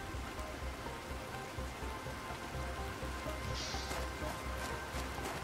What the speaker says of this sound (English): That rain looks weird.